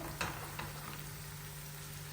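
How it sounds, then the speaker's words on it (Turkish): A steady, quiet sizzle of chopped onions frying in hot oil, with a couple of faint pops near the start. "Şimdi soğanlarımız içine pembeleşene kadar güzelce"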